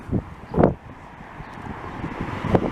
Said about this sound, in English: Oh, now there's a gust of wind,